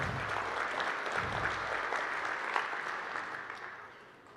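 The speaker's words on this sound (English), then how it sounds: "Let's give them a round of applause." Warm applause from the crowd at a chamber of commerce annual meeting, steady and fairly close, tapering off toward the end.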